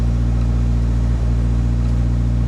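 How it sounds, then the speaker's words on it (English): A Mitsubishi Galant VR-4 with a 4G63 engine idles steadily with a vacuum leak, a constant close engine drone with a faint hiss over it and no talk. "I have a vacuum leak somewhere."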